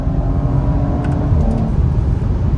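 Loud, steady engine roar from an Audi RS5 Sportback under acceleration, a continuous low rumble filling the whole stretch with no voices over it.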